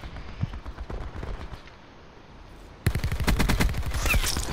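A Peacekeeper gun in a video game fires rapid automatic bursts, a tight rattle of shots that drops back and then returns louder and denser in a sustained volley.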